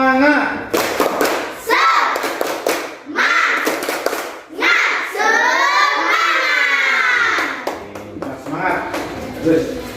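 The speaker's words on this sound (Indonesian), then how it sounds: "mari kita coba dulu dengan tepuk semangat" A class of schoolchildren performs a rhythmic clapping chant, bursts of synchronized claps alternating with loud shouted group chanting, close and lively in a classroom.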